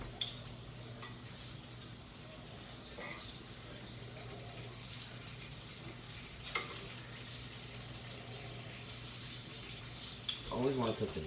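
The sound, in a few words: bacon frying in a pan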